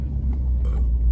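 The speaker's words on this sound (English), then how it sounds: "so I'll be backing in right beside this blue truck on the other side of them" A junk removal truck reversing into a parking spot gives a low, steady engine rumble, close and continuous through a brief moment, with no voices.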